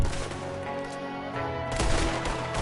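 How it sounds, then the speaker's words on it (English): Gunshots ring out in a cowboy video game as a dense, crackling volley layered over a continuous game soundtrack, loud and busy throughout. "Listen to the crispness of that gunshot"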